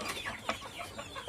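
Newly arrived chickens cluck in a short, busy burst of overlapping calls close by, with no talking.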